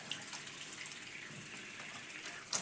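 Clean water runs steadily from a tap into a sink while washing, a soft continuous hiss and splash at low level, with a small splashy surge near the end and no talking.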